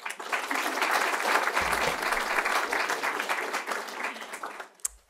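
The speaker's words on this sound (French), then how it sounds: "on lui fait une petite main d'applaudissement" An audience at a school honor roll ceremony breaks into steady, full applause that keeps a constant level for several seconds before tapering off with a final sharp knock.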